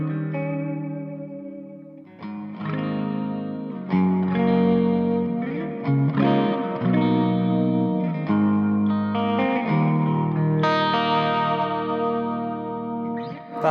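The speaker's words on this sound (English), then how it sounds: "if you play like some soft stuff and you put the reverb all the way up" Soft electric guitar chords and notes played through a Victory Lunchbox amp with reverb turned fully up, lush washy shimmering tails ringing on and blending between phrases, loud and close with no talking.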